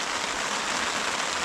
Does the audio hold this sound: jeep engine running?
no